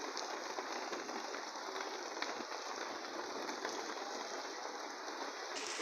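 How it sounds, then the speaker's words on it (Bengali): Rain falling on a street in a steady, even hiss with faint scattered drop ticks, quiet and unbroken throughout. "এই যে বৃষ্টিটা পড়তেছে এটা কে বৃষ্টি?"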